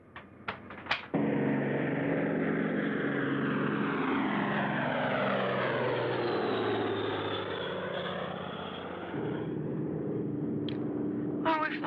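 A propeller airplane, Flight 609 in a 1977 film, drones loudly and steadily overhead for most of the stretch, its pitch slowly sweeping, with a few sharp clicks before and after it.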